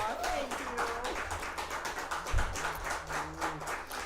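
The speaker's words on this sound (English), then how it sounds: "Give these folks another round of applause." Audience clapping after a gospel-style music performance, a steady, moderately distant patter of many hands that carries on beneath faint overlapping voices for several seconds.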